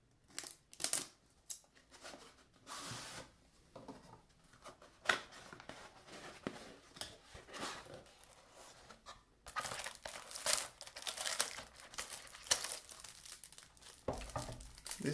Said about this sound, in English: let's unbox it and see what's inside